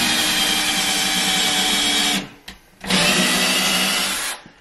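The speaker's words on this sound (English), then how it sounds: "So let's go ahead and drill." Power drill boring into a wall to mount a modern coat rack, a loud continuous whir running about two seconds, a brief pause, then a second sustained burst before stopping.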